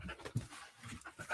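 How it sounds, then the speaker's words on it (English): A puppy panting indoors, a few soft, quick breaths close to the microphone, faint and brief, with no talk over it. "It's the puppy."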